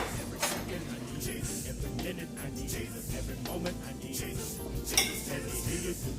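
A knife slices through hard-boiled eggs from a Toastmaster egg cooker, with steady close clinks and taps of metal on a dish, continuing without a break.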